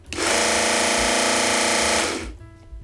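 Small G 250W belt grinder spinning up to maximum speed, a loud, close, steady motor whine with a buzzing hum that holds for about two seconds, then winds down quickly.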